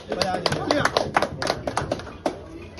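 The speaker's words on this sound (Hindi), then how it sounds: "ताली बजा दीजिए" Scattered audience clapping at a Hindi-language welcome ceremony for a BJP leader, with sharp uneven claps close by, mixed in with ongoing talk.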